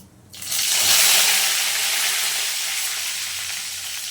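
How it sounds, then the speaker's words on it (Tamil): Mustard seeds and curry leaves hit hot oil with a sudden loud hiss and sizzle that holds as a dense, steady crackle, close up and with no talking. "கடுகு போட்டு கடுகு பொரிஞ்ச விடும் கருவேப்பிலை போட்டுக்கலாம்"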